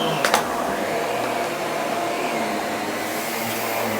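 A Miele Guard L1 Electro vacuum cleaner runs on flat carpet with a steady, loud motor whine and airflow roar, broken only by a brief clatter near the start.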